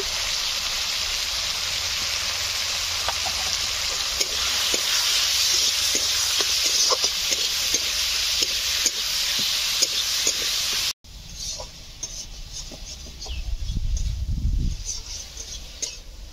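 Potatoes fry with ginger paste, turmeric and chilli in a hot pan, giving a loud, steady sizzle that cuts off abruptly, followed by quieter crackling and a low stirring rumble.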